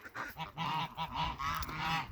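A mother goose on a small farm honks repeatedly at close range, a series of about seven nasal, rhythmic honks with short gaps between them.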